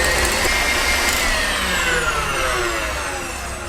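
An electric mixer whisks eggs with hot syrup in a loud, steady, close whir that holds evenly throughout with a rising high-pitched whine.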